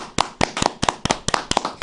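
A short burst of hand clapping, about a dozen quick, sharp claps in an even rhythm, close and fairly loud.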